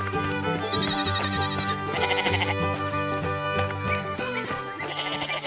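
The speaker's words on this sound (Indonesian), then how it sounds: "Domba putih berdiri di dekat bangunan kayu besar dengan pintu yang terbuka lebar." Sheep bleat near a farm with a large wooden building, the calls mixed into a dense, loud bed of upbeat music that runs throughout.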